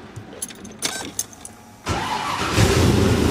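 Keys jingle and click, then a car engine cranks and catches, settling into a steady idle that grows slightly louder.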